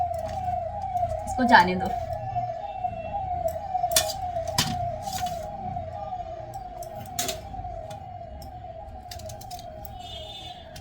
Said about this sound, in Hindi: ये एम्बुलेंस है, पुलिस की गाड़ी है, तो उसकी वजह से ना कितनी साउंड आता है।